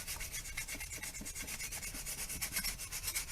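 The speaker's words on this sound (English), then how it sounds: "This is again where that 80 grit sandpaper makes it real easy." 80-grit sandpaper rubbing a wooden edge to round it over on a small fractal-burned plank, a steady close scratchy rasp of quick back-and-forth strokes with no pauses.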